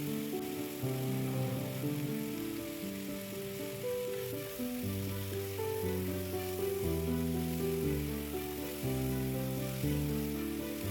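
Constant soft sizzling of yam pieces sautéing in oil, steady and close, under a background of sustained musical tones with no voices.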